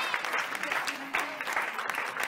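Audience applause at a public event launching biodiversity awareness pages, a steady, faint wash of many hands clapping heard from some distance.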